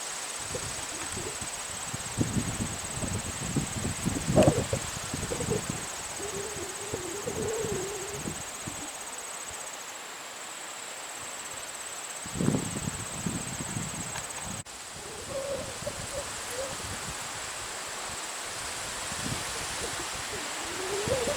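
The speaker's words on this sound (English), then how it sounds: "And the wind's blowing today up here." Steady outdoor wind on a cool autumn day on a hilltop among colouring fall foliage, a continuous airy rush with gusty bursts and rustling, swelling and easing over about twenty seconds with no voices.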